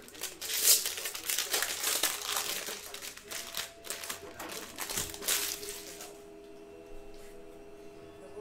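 A jumbo pack of 2020 Bowman Baseball cards is torn open, its foil wrapper crinkling and ripping in a busy, close burst for about six seconds before the sound drops away to near quiet.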